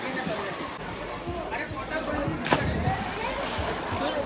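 A bundle is thrown into a river where friends are swimming, and one dull splash cuts through their loud chatter before the talking carries on.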